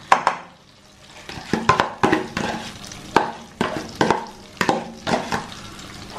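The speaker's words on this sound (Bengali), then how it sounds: "ঘি দিয়ে এখন ভেজে নিতে হবে, লো হিটে ভালোভাবে নাড়িয়ে চাড়িয়ে ভেজে নিতে হবে" Lentils fried in ghee over low heat with steady stirring, a spoon scraping the pan in repeated rhythmic strokes over a soft, continuous sizzle, close and clear with no talking.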